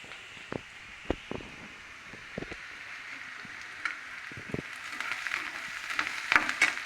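Onion and cumin sautéing in oil in a pan while spinach poriyal is made, with a faint, steady sizzle broken by scattered light clicks and taps of a spoon.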